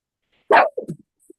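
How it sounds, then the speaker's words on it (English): A dog gives one sharp bark followed by a couple of shorter yelps during an indoor conversation, fairly close and loud, then falls quiet. "we had a minor dog disturbance"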